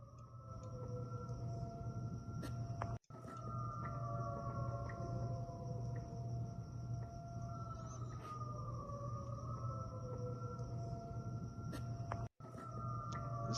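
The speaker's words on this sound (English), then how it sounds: "So you could hear the sirens going off in the distance there." Distant sirens wail, slow rising and falling tones overlapping faintly over a steady low hum.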